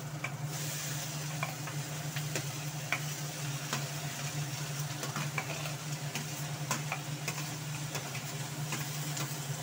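Small potatoes and cauliflower stems fry in a pan, a quiet, steady sizzle with light ticking and stirring sounds under a constant low hum.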